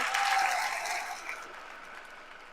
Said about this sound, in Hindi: तो बजा दो ताली इस बात पे।